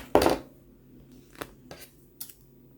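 Scissors snip fabric to notch the middle while sewing a small zippered pouch: one sharp close cut, then three quieter, quick clicks spaced apart, with no voices.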